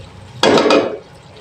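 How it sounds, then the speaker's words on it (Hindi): A single short splash and sizzle as chicken stock is poured into rice frying over high heat in a pan, loud and close, fading away within about half a second. "इसमें मैं यखनी ऐड कर दूंगी।"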